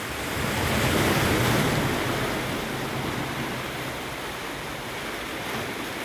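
Ocean waves wash onto a beach at Holetown on the west coast of Barbados, a continuous loud broadband surf roar swelling and easing, with some wind noise and no talk.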